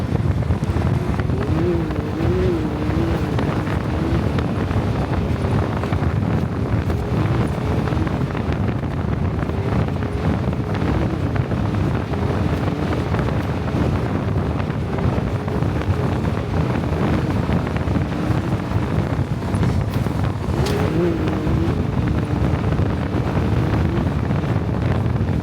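A Can-Am Maverick R side-by-side rolls slowly through whoops off-road, its engine a low steady drone buried under heavy, constant wind buffeting on the microphone, with a faint rising and falling engine tone.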